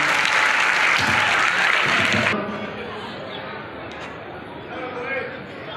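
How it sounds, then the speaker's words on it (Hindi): An audience at a ceremony gives a burst of loud, dense applause that cuts off after about two seconds, followed by quieter room sound with a voice speaking. "अच्छी बातों पर तालियां होनी चाहिए"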